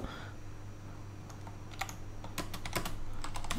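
Someone types code for an Android app on a computer keyboard. Close, light clicks come in short, irregular bursts, growing busier toward the end, over a faint steady hum.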